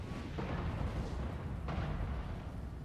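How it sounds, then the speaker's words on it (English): Mortars fire in a Total War Warhammer battle as two dull booms about a second apart over a dense rumble of fighting, with no talk. "There's the mortars, so they're going to start firing."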